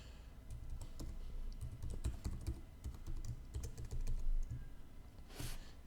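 A computer keyboard is typed on quietly while entering a GitHub login, making soft, rapid key clicks in uneven bursts with brief pauses, faint and close, with no talking.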